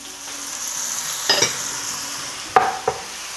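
Tomatoes stirred into rougail saucisse sizzling in a pan, steady frying hiss with a few sharp spoon scrapes and clinks against the pan.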